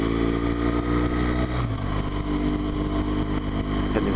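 A BMW R1200GS motorcycle engine runs with a steady, loud mid-pitched drone. The pitch shifts slightly partway through. No voices are heard.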